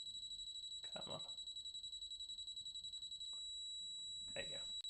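An endodontic motor gives a steady rapid series of high electronic beeps for its apex reading, running throughout at close range while a person speaks briefly twice.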